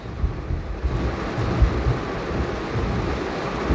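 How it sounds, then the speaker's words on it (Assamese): Heavy downpour in Nazira town, Sivasagar district, Assam: a steady, dense roar of rain with a deep low rumble underneath, close and continuous, with no voices. "ৰাজ্যৰ ভিন্ন প্ৰান্তত আজি প্ৰচণ্ড বৰষুণ হোৱা পৰিলক্ষিত হৈছে।"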